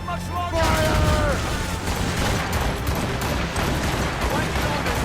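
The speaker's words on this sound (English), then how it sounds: "They are firing a volley!" Ships firing a cannon volley in the naval combat of Assassin's Creed Rogue roll out as a dense, continuous rumble of booms, loud and sustained, under shouted orders and a whistling tone early on.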